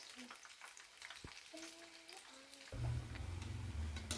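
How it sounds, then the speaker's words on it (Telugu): Food frying in a pan until crisp, a faint, quiet sizzle that swells into louder bubbling crackle partway through, with a brief low voice-like hum mixed in. "కొంచెం క్రిస్పీ వచ్చే వరకు ఫ్రై చేసుకోవాలి."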